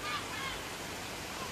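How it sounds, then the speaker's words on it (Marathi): A mountain waterfall at Solanpada dam near Karjat gives off a continuous, even rushing and murmuring of falling water with no breaks or other sounds. "छान असे झुळझुळ झुळझुळ पाण्याचा आवाज येत आहे."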